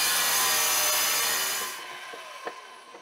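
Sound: wet tile saw cutting porcelain floor tile

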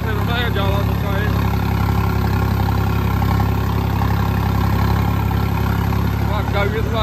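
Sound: tractor engine pulling a planker in a field

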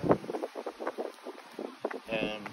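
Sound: wind

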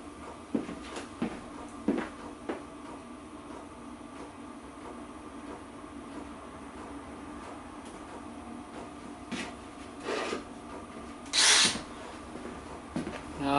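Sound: drilling holes in a Freelander 2 differential bearing

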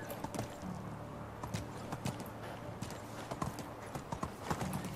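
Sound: horse galloping hooves in the video game Medieval Dynasty

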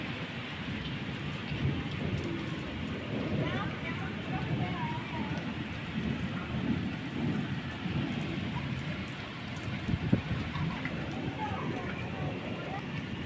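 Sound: thunder during rain

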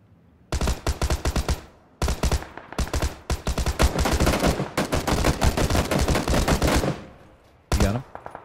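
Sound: gunshots in PUBG video game

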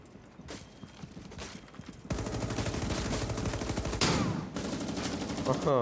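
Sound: gunfire in a video game (AreaF2)

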